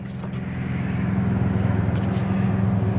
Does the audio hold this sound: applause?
no